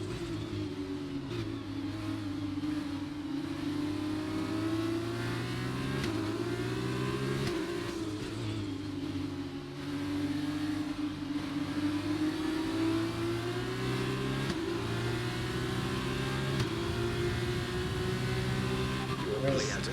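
F2 race car engine in a racing video game career mode at Hungary, a steady high-revving whine that dips and climbs with gear changes, continuous and moderately loud under the race.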